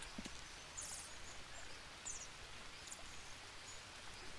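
Steady patter of rain falling in a jungle in the survival video game Green Hell, a soft, continuous hiss with faint rustling and occasional brief drip-like ticks, quiet and with no voices.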